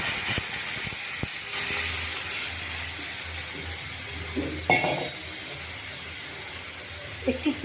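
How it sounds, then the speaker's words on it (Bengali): Water is poured into a pan of spices frying in oil with turmeric and a nigella seed tempering, producing a steady, loud hiss broken by a few utensil clicks and clatters, with short knocks near the end. "এবার এর মধ্যে জলটা আমি ঢেলে দেবো"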